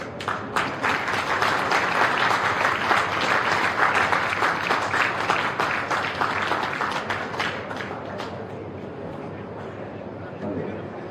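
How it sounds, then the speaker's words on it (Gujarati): A standing audience applauds a saint's discourse with loud, sustained clapping that carries on for several seconds, then thins and softens toward the end. "એક વખત આપણે સૌ ઊભા થઈ અને તાળીઓથી વધાવીએ"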